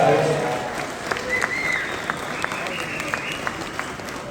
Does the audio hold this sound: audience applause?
yes